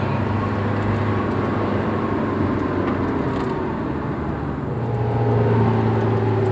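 An old, modified Toyota Kijang engine pulls hard through its gears, a loud droning tone climbing steadily before a shift near the end drops the pitch and the revs build again.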